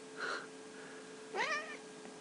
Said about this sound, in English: Kitty here. Not a healthy kitty. Distressed.